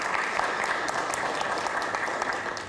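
Steady applause from a conference audience welcoming a guest at a panel on digital business models for traditional media, dense clapping sustained throughout with no talk over it.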